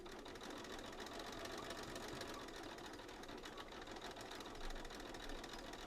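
A sewing machine fitted with a walking foot stitches at its longest stitch length, giving a faint, steady mechanical whir and rapid rhythmic clatter that runs unbroken throughout.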